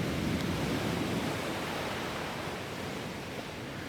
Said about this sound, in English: listening to some waves, going on a little adventure before the school year starts